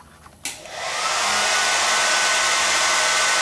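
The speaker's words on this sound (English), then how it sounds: "After adjusting your hair dryer for your comfort, you can dry your nails" A hair dryer mounted on a suction cup clicks on and quickly rises into a loud, steady blowing whoosh that holds evenly to the end, with no voices.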